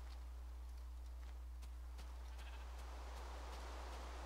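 Sheep in a video game bleat faintly several times over a steady low hum, alongside light clip-clop-like footsteps.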